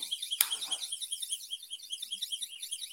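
After a sharp click, a small device's alarm beeps in a fast, steady warbling pulse that repeats without pause for a few seconds at moderate volume.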